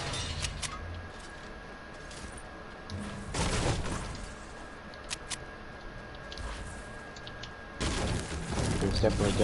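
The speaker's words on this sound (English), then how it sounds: "Gunfire coming from somewhere." Bursts of distant gunfire crackle in a Fortnite game scene, a few sharp shots scattered through the middle and a heavier volley near the end.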